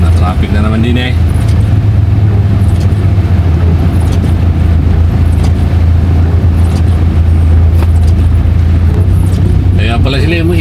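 Road traffic in heavy rain, heard from inside a moving vehicle, comes as a constant loud low rumble of engines and road noise with voices talking over it.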